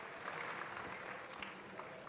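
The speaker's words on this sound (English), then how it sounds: "So give yourselves a round of applause for making the #1 participant sport in America come to life." Applause from an audience in a hall at a U.S. Bicycle Hall of Fame induction ceremony, a steady, fairly faint wash of clapping that holds evenly throughout.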